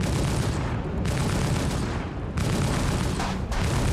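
Electron Bolt sniper rifle in Star Citizen, heard as dense, loud blasts filling the whole span, with a few sharp breaks between surges of crackling, booming noise.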